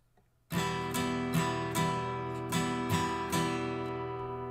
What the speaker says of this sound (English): If I was to strum it, it would sound like this.